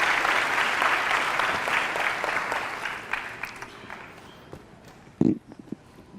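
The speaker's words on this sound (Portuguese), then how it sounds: "Aplaudam ele, gente." An audience applauds during a church service, a dense, steady wash of clapping that gradually thins and fades, followed by a few louder isolated knocks near the end.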